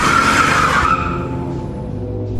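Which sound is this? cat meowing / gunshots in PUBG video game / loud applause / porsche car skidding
porsche car skidding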